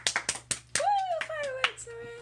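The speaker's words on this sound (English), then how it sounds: "Everyone clap your hands right now." A handful of quick hand claps in a fast burst, close and crisp, followed by a voice talking and a tonal sweep.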